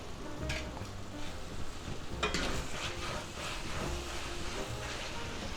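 Beef lo mein stir-fry with ramen noodles and vegetables cooking in a covered pan on a burner: a low, steady frying sizzle persists throughout, with faint intermittent stirring clinks.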